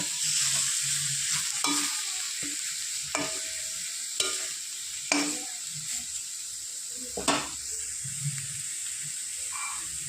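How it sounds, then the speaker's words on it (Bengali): A spoon stirs kharkon leaf paste with round lemon slices in a hot pan, giving a steady sizzling hiss with irregular scraping knocks and clinks close by, no voices. "কয়েক পিস লেবু টুকরো গোল করে আমি কেটে রেখেছিলাম, তার সাথে একটু নেড়ে নেব"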